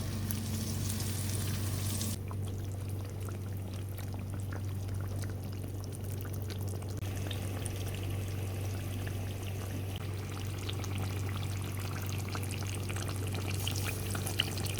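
Chicken korma curry with ginger garlic paste, fried onion paste and cashews simmering and sizzling in a pan while being stirred, a steady bubbling hiss with faint scraping.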